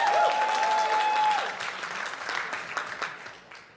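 An audience at a charity auction gala applauds a winning bid. The clapping is full and close, a steady tone rings at the start, and the applause gradually thins and fades toward the end.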